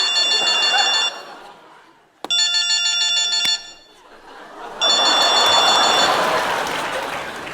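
A telephone rings in bursts, an electronic trilling ring repeating with short pauses, loud and close, over background noise.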